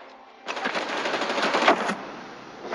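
Shotgun fire in Rainbow Six Siege, a loud burst of gunfire starting abruptly after a short quiet lead-in, with a rapid rattling texture before fading back to low background.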